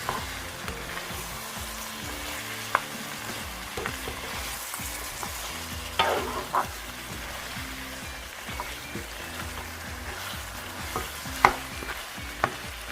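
Fried pork belly and shrimp sauté in a pan for mung bean stew, giving a constant close sizzle with a rumbling low bubbling underneath and occasional sharp crackles and utensil clicks, with no talk.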